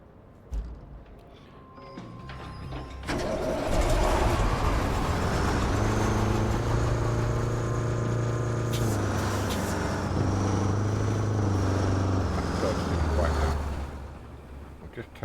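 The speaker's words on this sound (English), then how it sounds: "That's quite a loud truck." Loud, close engine of a dump truck in the video game RoadCraft, revving up after a few seconds, holding a heavy steady rumble with shifting pitch, then easing off near the end, with a voice talking over it.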